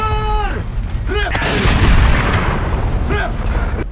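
Rapid barrage of booming explosions and tank gunfire from the War Thunder video game, with loud heavy blasts overlapping, bursts of a Swedish-language game voice calling out and a rising whistle before several impacts.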